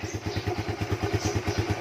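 A Raider 150 motorcycle engine idles up close in a fast, even chugging beat, heard alone with no talk.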